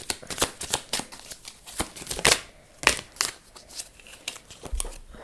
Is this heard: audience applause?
no